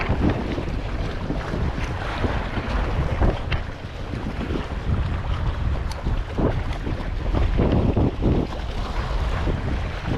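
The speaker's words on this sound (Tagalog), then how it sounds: "Medyo may hangin." Gusty wind blows steadily over open water while fishing from a boat, rumbling and buffeting the microphone, with faint surf and no talk.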